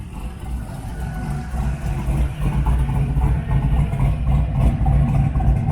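A truck fitted with a smokestack idles nearby with a steady, deep, low rumble that holds even for several seconds, with no talking over it.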